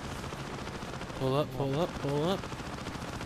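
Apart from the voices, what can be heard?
aircraft cannon fire in the video game Wings of Prey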